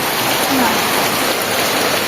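Heavy monsoon rain pours down steadily outdoors, a dense, even hiss that fills the whole scene without pause.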